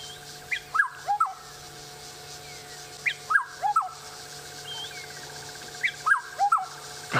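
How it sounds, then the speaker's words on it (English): A black-headed oriole calls from a tree, giving three short clear whistled phrases of liquid notes spaced a few seconds apart. The calls are fairly close and loud over a faint steady background hum. "The black-headed oriole and an incredible call."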